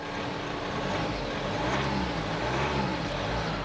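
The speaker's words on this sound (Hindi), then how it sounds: "आप नॉइस सुनेंगे, थोड़ा सा भी रेव करूँगा।" A Jeep Meridian diesel SUV engine, heard with a door open, drones steadily and revs slightly, a continuous low rumble close by with no voices over it.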